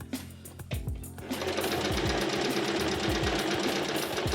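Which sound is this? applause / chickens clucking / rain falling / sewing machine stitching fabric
sewing machine stitching fabric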